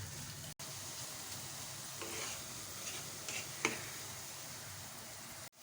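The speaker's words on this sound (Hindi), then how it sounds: "प्याज को हम अच्छे से फ्राई करेंगे" Onions frying in oil for beef dum biryani, a steady soft hiss running throughout with a few faint stirring clicks and scrapes, moderately quiet and close with no voices.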